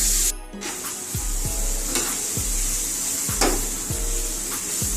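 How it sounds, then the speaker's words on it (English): Onions caramelizing in a pot at the start of a hearty cabbage soup give a steady, close sizzle and frying hiss, with a few soft scrapes and clinks from stirring throughout. "We want the onions to caramelize. We want them to brown"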